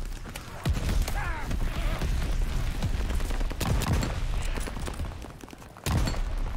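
Rapid bursts of gunfire in Call of Duty on the small Shipment map crack and thump close by in dense, overlapping volleys, with sharp shots standing out near the start and end.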